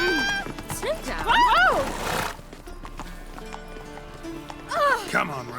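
Roach, Geralt's horse in The Witcher 3 video game, whinnies loudly twice with rising and falling neighs, while hoof clip-clops and soft background sounds play in between.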